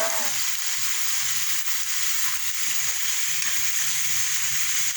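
Meat adobo cooks in a pan, giving off a loud, steady sizzling hiss that stays even from start to finish.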